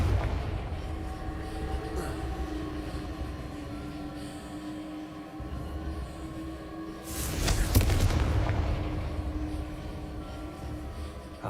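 Confringo blasting curse explosions in Hogwarts Legacy, heard as a steady rumbling game ambience that swells into one louder, sustained burst near the end.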